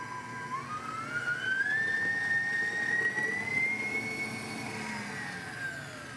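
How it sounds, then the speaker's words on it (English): Electric mixer whisk running on high through brownie batter, a steady whirring drone with a rising whine, continuous and fairly close with no talk. "I'll run the whisk on high just so everything comes off of the whisk"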